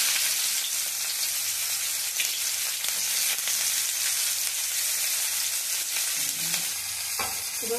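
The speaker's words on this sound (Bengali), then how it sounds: "লাল লাল করে ভেজে নিচ্ছি" Onions sizzle and crackle steadily in a frying pan while being fried until reddish-brown for a lote shutki (dried Bombay duck) bharta, a continuous even frying hiss with no voices.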